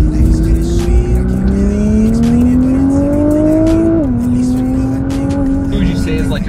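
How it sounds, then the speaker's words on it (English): A Nissan GT-R accelerating hard on a highway, its engine note climbing steadily through a long pull before a quick drop at the shift and a fresh rise, loud and close inside the cabin with road noise beneath. "Rip it up a little bit in the GTR"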